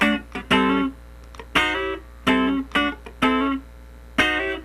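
Funk rhythm guitar plays the first bar of a pattern, short clipped chord stabs in a syncopated rhythm with a slide into a chord voicing, clean and close, with no talking.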